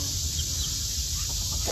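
Bantam rooster and other chickens, including naked necks, clucking faintly in a farmyard pen, soft scattered calls over steady background noise with no talk.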